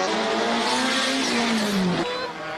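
A race car at a hill-climb speed event roars loudly and close as the turbo boost comes on, its engine note rising in a strained howl before easing off.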